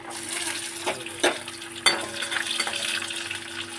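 Garlic, green chillies and nigella seeds crackling in hot mustard oil alongside kharkol leaves, a close, steady sizzle with a few sharp pops and stirring clatters near the start.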